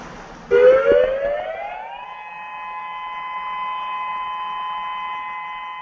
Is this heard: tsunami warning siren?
yes